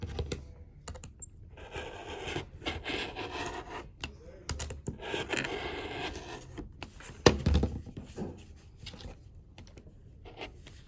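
A rotary cutter slices through quilt fabric in a quiet room, giving soft, irregular scraping strokes in short bursts with brief pauses between cuts, close and faint.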